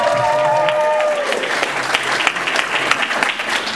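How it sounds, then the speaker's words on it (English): An opera preview audience claps for a birthday, a burst of dense applause rising after a moment of lingering tones and continuing steadily, fairly close and loud, with no voice over it. "so let's clap and give her a hand."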